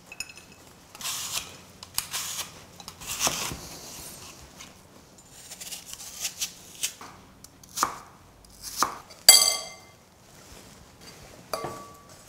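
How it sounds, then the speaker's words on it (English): Apples being peeled, cored and thinly sliced for a gluten-free apple pie, with a run of crisp knife chops and scrapes at a close, moderate level, broken by brief pauses and an occasional sharper clink. "with our beautiful apples, we'll peel, core and thinly slice them"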